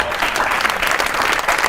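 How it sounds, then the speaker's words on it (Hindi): Loud, dense applause from a studio audience at a talk show, steady clapping throughout with a faint murmur of crowd underneath. "बहुत सी ताली होनी चाहिए इस बात पे"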